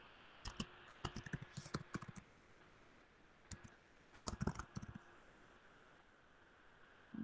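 Bursts of quick keyboard typing in short clusters, separated by pauses, close and fairly quiet in a still room.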